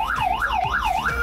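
A fire truck siren wails loud and close, sweeping up and down in quick, regular cycles.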